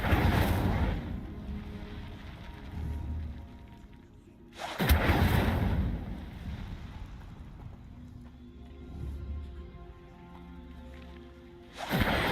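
Incendio fire spells cast in Hogwarts Legacy, with two sudden whooshing bursts about seven seconds apart, each trailing off into rumbling flames over low background game ambience.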